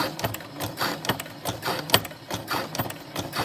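A sewing machine runs a long stitch through coated fabric, a close, steady rhythmic chatter of needle strokes repeating several times per second for the whole stretch.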